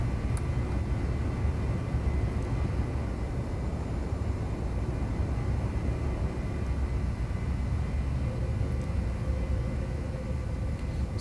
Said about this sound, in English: So that was a great takeoff from Norfolk.